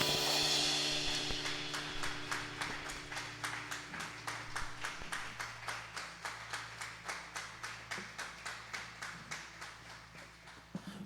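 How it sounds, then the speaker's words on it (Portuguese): A church congregation claps in a steady, regular rhythm, the crisp unison beats repeating evenly for many seconds over a faint sustained musical tone, at moderate distance. "Você pode aplaudir o Senhor, querido?"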